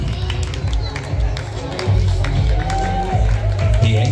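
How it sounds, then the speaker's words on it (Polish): Audience at a fashion show applauds a woman walking the runway, clapping and cheering swelling in a hall under an announcer's amplified voice speaking over the crowd. "Jeszcze dajcie brawa dla pani Władysławy."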